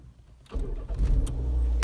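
A Humber car engine cranks and catches, then settles into a deep, steady running rumble close by, with a few sharp clicks over the idle.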